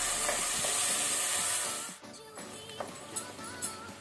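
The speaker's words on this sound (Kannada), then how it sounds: "ಟೊಮೆಟೊ ಸಾಫ್ಟ್ ಆಗೋ ತನಕ ಫ್ರೈ ಮಾಡ್ಕೊಳ್ಳುವ" Tomatoes sizzle and hiss in a pan while cooking for a prawn biryani, a loud steady fry that abruptly drops away, followed by quieter crackles and a few sharp stirring clinks.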